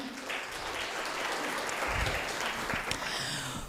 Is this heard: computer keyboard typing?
no